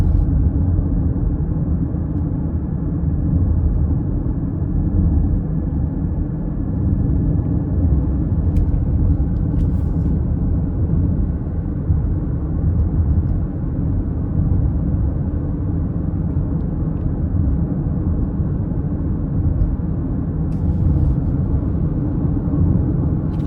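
Steady low cabin rumble inside a 2026 Nissan Rogue SV FWD driven normally, with continuous engine and road noise and a few faint clicks, no talking.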